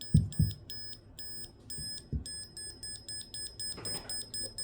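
A Klein Tools advanced circuit tracer emits a steady series of short, evenly spaced high electronic beeps while tracing a wire through drywall, with a few low knocks and handling thumps near the start.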